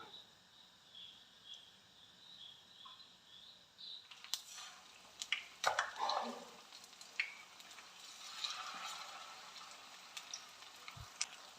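Egg bajji dipped in batter sizzles and fries in hot coconut oil, a quiet steady crackle with occasional pops and stirring clinks, no talking.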